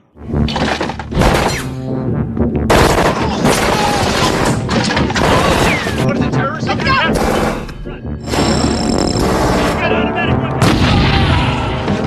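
Gunfire in the 1984 film The Terminator's police station scene, repeated loud shots and booms in bursts with crashing and breaking debris, dense and continuous over about twelve seconds with brief gaps.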